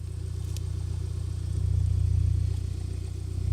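A Volkswagen Golf R engine idles steadily with a low, pulsing burble that rises slightly in the middle, heard up close with no talking.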